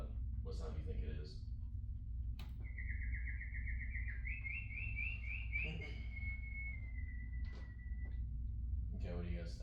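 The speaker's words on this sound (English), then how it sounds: "I would say it sounds like a canary." A canary sounds a single thin, high warbling chirp and trill lasting a few seconds over a constant low room hum, with faint voices murmuring at the start and end.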